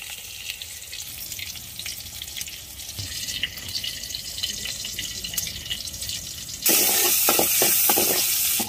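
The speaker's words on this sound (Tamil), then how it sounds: "டைம் போட்டாச்சு, இப்போ எண்ணெய் ஊற்றணும்." Hot oil sizzling and frying in a pan while cooking a tamarind tongue-fish curry, a steady crackle that jumps suddenly louder and brighter partway through, with scattered spits and pops, no talking.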